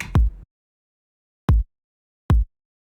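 Three punchy electronic kick drum hits through a compressor, deep and tight, with silence between them; the first thumps twice in quick succession.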